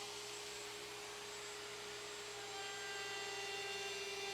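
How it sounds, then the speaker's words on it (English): A router fitted with a half-inch round-over bit cuts a generous rounded edge into wood, giving a constant high-pitched whine and airy roar that stays even throughout, with no voices. "And I fired up a router to do the round over."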